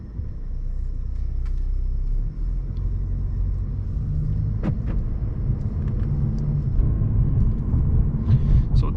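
Steady low rumble of a 2020 Mercedes C-Class facelift with the 220 diesel engine while driving, a constant cabin drone with a few faint clicks and no talking.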